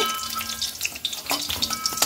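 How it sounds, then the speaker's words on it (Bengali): Food frying in hot oil in a pan, a soft continuous sizzle with small crackles and pops and a few light clinks of a utensil, close and fairly quiet. "আর এক পিঠ ভেজে নিচ্ছি এইভাবে।"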